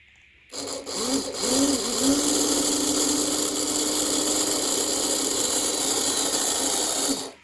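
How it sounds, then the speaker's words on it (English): Small electric motor and drive shaft of a Santa Fe GP7 model locomotive under power: a sharp start, then a steady, close, high whirring buzz with a few early pitch wobbles, running alone for about seven seconds before cutting off. "It's got a drive shaft that goes, this is the whole drive shaft. Put some power to it."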